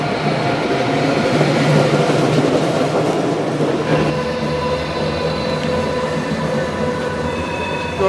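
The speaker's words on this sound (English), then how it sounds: "Deutsche Bahn 101 with Czech carriages." A Deutsche Bahn class 101 locomotive with Czech carriages rolls through Hamburg Hauptbahnhof with steady rumbling wheels and a rising metallic squeal, continuous and fairly loud, no voices.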